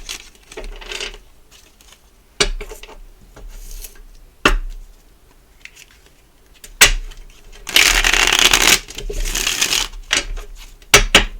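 A deck of tarot cards is shuffled by hand in short, crisp bursts of riffling and clacking separated by quiet pauses, with one longer, louder flurry near the end and no talking.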